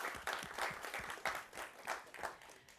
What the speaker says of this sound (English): maybe we could still give them both a big round of applause